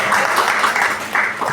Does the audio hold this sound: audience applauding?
yes